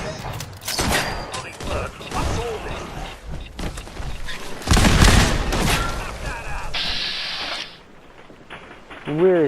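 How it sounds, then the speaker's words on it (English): Enemy gunfire in Fallout 4 VR, scattered sharp shots and loud bursts mixed with mechanical clanks and game effects, with someone talking over much of it. "Where is the guy that's shooting at me?"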